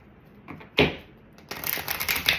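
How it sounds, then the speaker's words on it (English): A deck of cards is shuffled close up, with a quick riffle burst followed by a longer run of rapid crisp flutters and clicks. The sound is alone, with no voice over it. "One more shuffle."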